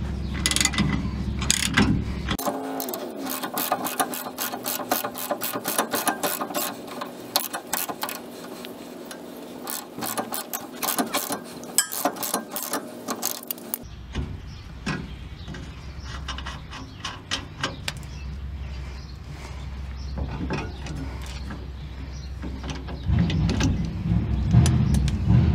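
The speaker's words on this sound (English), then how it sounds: "You got this ratchet up against here, holding it on the axle. I'm just going to loosen this nut." An 18 mm ratchet loosens a shock absorber nut on the axle of a Ford F150, giving rapid, close-up metallic clicking in dense runs that change rhythm partway through, with workshop background noise.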